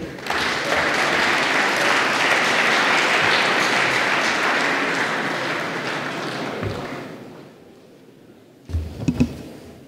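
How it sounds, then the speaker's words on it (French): An audience welcomes Air France's CEO with sustained applause, loud and dense, that fades out over several seconds, followed by a few thumps and rustles near a microphone. "Merci de l'applaudir."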